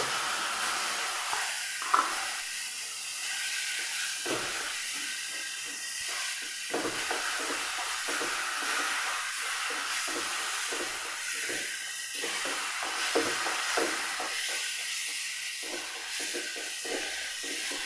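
Milk poured onto semolina in a hot pan sends up a loud, continuous steamy hiss that crackles and sputters close by, rising and settling over several seconds.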